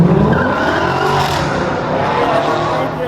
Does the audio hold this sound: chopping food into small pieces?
no